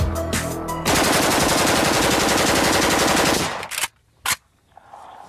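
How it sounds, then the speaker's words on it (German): An AK-47 assault rifle fires one long, dense automatic burst, loud and close, followed by a couple of sharp single reports and a short echoing tail. "Mit 600 Schuss pro Minute und einer effektiven Reichweite von 300 Metern ist die AK-47 eine verheerende Waffe."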